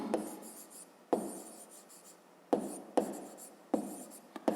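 Pen or chalk writing out a fifth-grade math solution, five separate bursts of scratchy strokes, each starting with a sharp tap and tapering off, fairly close, with no talk.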